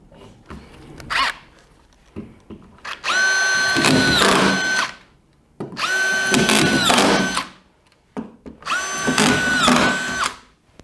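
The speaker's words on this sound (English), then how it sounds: "And you can see there just how quickly I'm able to drive screws and at the correct depth" A DeWalt DCF6202 collated screw gun drives drywall screws into plasterboard in three loud whirring bursts, each ending with a clicking ratchet as the screw seats, separated by short quiet gaps with light handling clatter.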